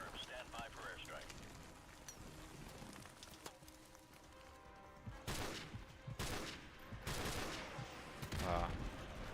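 Bursts of rapid automatic fire from an airstrike in a military shooter game hammer out in several heavy clusters over a steady battlefield background, growing louder and denser toward the end, with a voice speaking over the opening.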